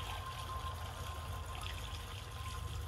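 103-octane aviation racing fuel pours steadily into the tank of a Chris Craft boat, a continuous close liquid rush and trickle with no talk over it.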